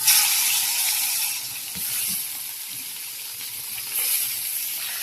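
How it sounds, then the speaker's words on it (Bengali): Fish frying in hot oil, a continuous bright sizzle and hiss at close range, fairly even throughout with slight swells, no voices. "মাছ ভেজে নেওয়া হবে এখন"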